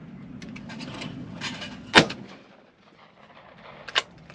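A shotgun fires at a clay target on an outdoor range, one sharp loud report standing out near the middle, with a smaller second crack later over faint background noise.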